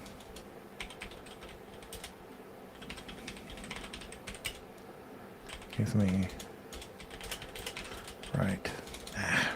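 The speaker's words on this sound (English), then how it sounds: "This is why you need a new keyboard, isn't it?" Computer keyboard typing clatters steadily and close throughout, with quick bursts of keystrokes while people talk over it.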